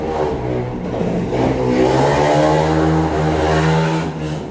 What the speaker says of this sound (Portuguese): Não sei se vocês conseguem ouvir essa barulheira dessa moto